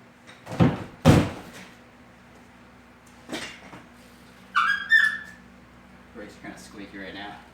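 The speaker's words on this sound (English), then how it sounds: "Brakes are kind of squeaky right now." Squeaky brakes on a flatland BMX bicycle: two sharp clunks, then a later thump, then a high, whistling squeal that rises briefly and fades into softer rattling and clicks.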